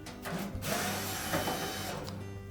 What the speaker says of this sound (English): Just remove all of the screws